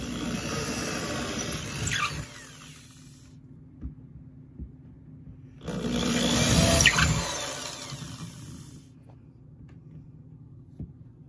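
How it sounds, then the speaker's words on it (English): A power drill whirs in two short bursts separated by a pause while drilling a pilot hole for farmhouse shelving, with faint knocks and handling noise between them. "on the second one now, I'm going to drill the pilot hole"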